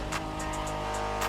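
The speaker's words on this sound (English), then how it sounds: "Are you familiar with the Honda you're driving?" A Honda NSX, the 1990s sports car, drives in The Crew Motorfest with a steady engine drone and road noise under a few short high-pitched ticks, close and constant over a brief moment.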